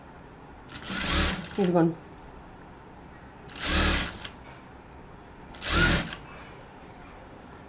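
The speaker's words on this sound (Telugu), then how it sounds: "నీట్గా ఇలా ఫస్ట్ కొంచెం ముందుకు కుట్టండి." A sewing machine stitching a boat-neck blouse, three short bursts of rapid mechanical whirring, each about a second long and separated by pauses, close and fairly loud, with a brief spoken word between bursts.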